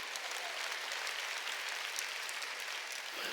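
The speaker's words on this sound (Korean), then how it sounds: "깨달은 사람만 박수해요." Steady applause from a church congregation during a Sunday worship service, a dense wash of many hands clapping at an even level throughout, fairly loud and with no voices on top.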